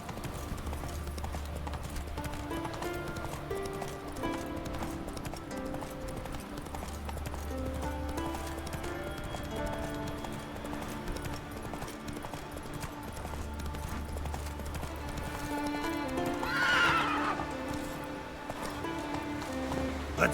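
Roach, the horse in the PC game The Witcher 3, gallops with a rapid, continuous run of hoofbeats over background music, with a short neigh-like cry near the end.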